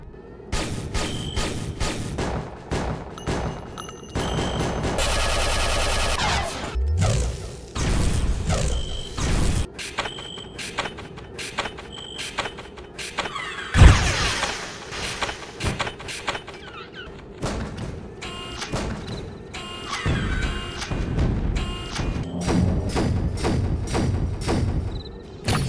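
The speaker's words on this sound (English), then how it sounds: "When the game originally came out, these were how the weapons sounded like." Original 1998 weapon sounds from Unreal, a rapid sequence of varied shots, thuds, mechanical clanks and booming blasts with brief pauses between, loud and close, with no voices.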